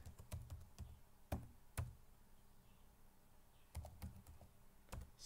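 Keystrokes on a computer keyboard, a handful of sharp clicks in short bursts with gaps between, close and fairly quiet with no talking.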